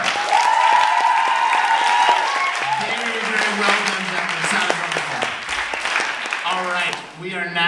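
An audience applauds loudly for hip hop performers at a live concert, and an announcer's voice soon comes in over the clapping and carries on above it.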